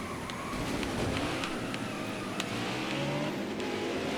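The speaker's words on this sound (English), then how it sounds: "Kyle Busch seeming to have a bit of a faster car as Truex is around and collected" Race cars roar around the oval in the NASCAR Heat 5 video game, a continuous loud engine drone with rising whine and overlapping cars passing, steady throughout without talk.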